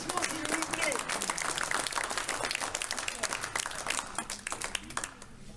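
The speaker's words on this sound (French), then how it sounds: "Encore plus fort ces applaudissements" Sustained crowd applause at a municipal ceremony honoring a local figure, many hands clapping steadily and fairly distant, with a murmur of voices underneath.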